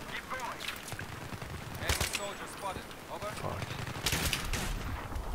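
Rifle fire from a G3A3 in Battlefield 3, during team deathmatch on the Canals map, cracks in rapid bursts and scattered shots amid game noise, with talking over it.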